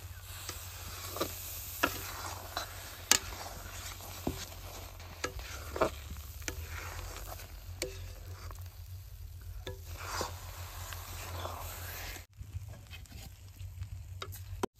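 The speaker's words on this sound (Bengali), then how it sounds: "আমি এখন বারে বারে জাল করুম আর এরকম করে নাইড়ে থাকুম" Olives cooked down with jaggery into a sticky mixture, stirred again and again in a pan, giving soft scraping strokes with occasional sharper knocks over a steady low hum throughout.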